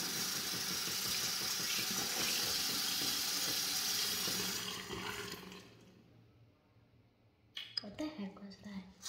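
Tap water runs steadily while hair is rinsed, a continuous hiss that stops about halfway, followed by quiet handling sounds and a few soft knocks.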